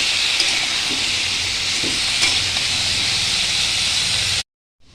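Potatoes with salt and a little turmeric sizzle steadily in a pan for Bengali aloo posto, a dense continuous hiss that holds even and close before cutting off abruptly near the end.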